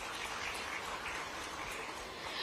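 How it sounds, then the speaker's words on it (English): An audience at a Japan–Madhya Pradesh economic collaboration session gives a loud, sustained round of applause for an arriving guest, a thick and even wall of clapping that carries on without a break. "So can we welcome him as well with a huge round of applause"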